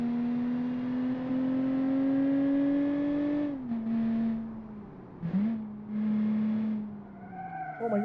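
A drift car's engine holds a steady high drone, climbs gradually, then drops and dips through gear changes with brief revving surges, and ends in a quieter, wavering idle.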